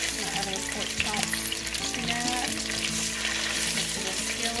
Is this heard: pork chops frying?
yes